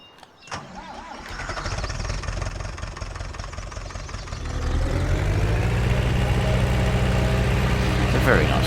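An old Ursus tractor engine in the Farming Simulator 19 video game cranks and starts with a click, then settles into a loud, steady, close rumbling idle that grows fuller over several seconds.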